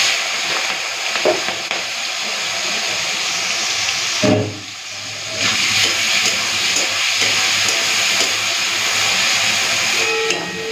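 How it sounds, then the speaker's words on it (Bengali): Shrimp frying in hot mustard oil make a continuous hissing sizzle, loud and near, with a short dip and a clatter midway before the steady fry resumes. "চলুন মাছটা দিয়ে দিই তেলের মধ্যে।"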